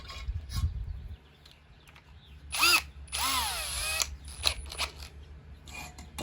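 A power drill with a 1/8 inch bit bores into a helmet, giving short loud whining bursts that rise in pitch, separated by clicks, handling noise and brief pauses.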